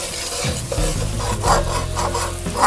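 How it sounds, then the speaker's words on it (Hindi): Onions frying in ghee in a pan for a chicken and chickpea curry, a close, steady sizzle with rough scraping and rubbing strokes of a spoon stirring through them, continuous and fairly loud. "इसे अच्छे तरीके से फ्राई करें जब तक कि हमारा जो घी है वो बाहर ना आ जाए"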